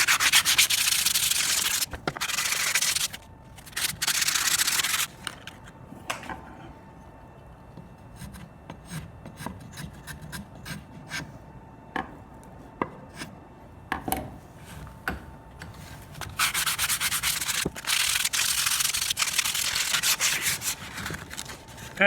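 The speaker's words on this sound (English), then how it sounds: "keep doing this until you sand all the edges nice" Steady rasping scrub of 80 grit sandpaper worked by hand along the edges of a wooden three-legged stool, in long continuous passes with brief pauses, close and loud.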